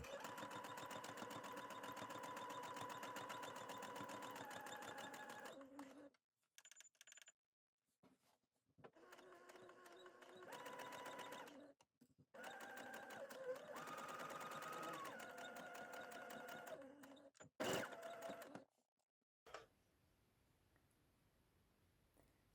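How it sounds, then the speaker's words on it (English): A sewing machine runs a long basting stitch along the seam of a pair of trousers, whirring steadily in several runs of a few seconds each, separated by brief pauses and clicks, close and fairly quiet. "the top's going to be stitched with a basting stitch"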